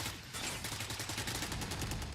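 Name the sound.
gunshots in the video game Valorant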